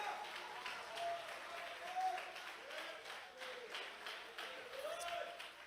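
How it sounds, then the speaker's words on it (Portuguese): Church congregation applauding loudly in praise, a steady wash of clapping throughout with a voice carrying over it. "Pode aplaudir Jesus bem forte"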